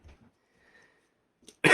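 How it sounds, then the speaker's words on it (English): A single person coughs: a faint throat sound at first, then one loud, sharp, close cough bursts out at the end after near silence. "So, coughing, as you could probably hear."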